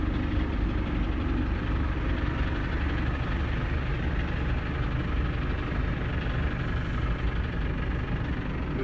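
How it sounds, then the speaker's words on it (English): A telehandler's diesel engine idles steadily at close range, a continuous low rumble with a faint knock, alone and unchanging throughout. "Very handy to have this telehandler"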